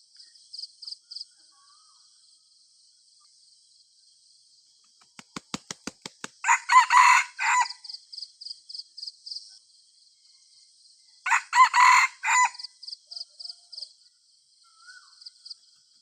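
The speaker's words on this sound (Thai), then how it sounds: "ตอนนี้ก็ขันใส่กันอยู่ครับตอนนี้วันนี้ขันใส่กันอยู่แต่ไม่เข้าครับ" Wild junglefowl roosters crowing back and forth in an orchard, two loud close crows separated by a pause, with a quick burst of clucks before the first and insects chirring steadily in the background.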